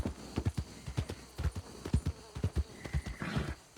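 A horse in Red Dead Redemption 2 clip-clops along with steady, evenly spaced hoofbeats, and a whinny rises near the end. The sound is close and clear, with no talking over it.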